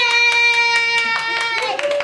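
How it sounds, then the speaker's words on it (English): Quick, rhythmic hand claps from a small audience at a Toastmasters contest meeting ring out under a sustained, cheering voice, the clapping growing more ragged toward the end. "Clap and cheer on the contestants."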